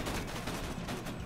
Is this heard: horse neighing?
no